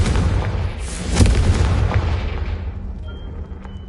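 A Confringo explosive spell from the Hogwarts Legacy video game bursts with a loud, broad boom that lingers as a rumbling crackle and slowly fades, followed by a faint high tone.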